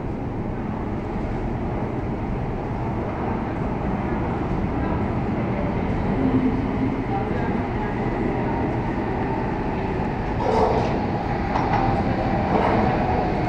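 RET SG3 metro train at Beurs subway station in Rotterdam, a steady low rumble and rolling noise filling the underground platform throughout, with brief brighter squeals and clatter near the end.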